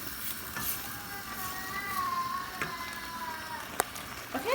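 Meat and potatoes simmer in chili sauce for carne con papas, a steady close bubbling sizzle with occasional stirring clicks and a sharp tap near the end, no talking.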